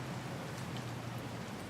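Steady rain falls in the CafeMart Simulator video game, a soft, even hiss that continues without a break and sits alone with no talking.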